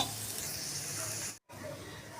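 Soft, steady sizzling hiss of a spice paste frying in hot oil for a rassa curry, with a brief silent gap partway through.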